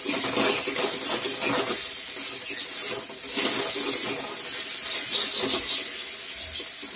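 Water poured into hot oil in a cooking pan sets off a broad, steady hissing sizzle with faint clinks of utensils, close and continuous for several seconds, without any voices.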